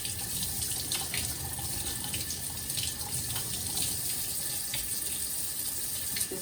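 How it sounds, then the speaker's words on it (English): Cold tap water runs steadily over homemade butter being rinsed and kneaded to wash out buttermilk, a continuous close splashing stream in a sink with small irregular splatters. "it seemed like this worked best, just to run it under cold water"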